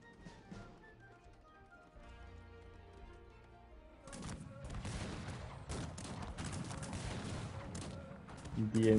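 Machine gun fire from a house in the Cossacks 3 video game, a thick crackle of rapid volleys that starts partway through after quieter game music and builds in loudness, with talk mixed in.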